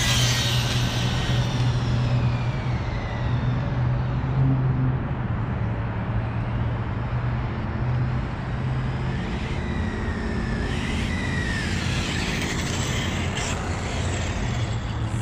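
An HPI RS4 RC car with a sensored electric motor makes a continuous whine and buzz through a full-throttle speed run, steady and fairly loud throughout, with the pitch rising and falling slightly as it passes.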